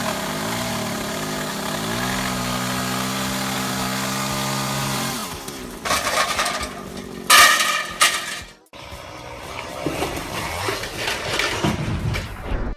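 A chainsaw used in tree cutting idles with a low steady hum, then revs up loudly in bursts, cutting out briefly before roaring again.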